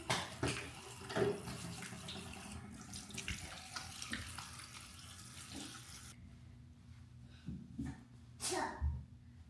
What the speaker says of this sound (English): So I'm gonna wash my face. This is what I use, CeraVe Acne Control Cleanser. This with cold water.